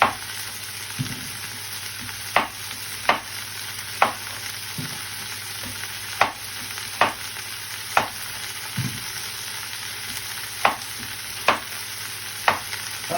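New potatoes being chopped for a beef casserole: about a dozen sharp knife strikes on a board, spaced roughly a second apart, standing out over a steady background hiss, with no talking.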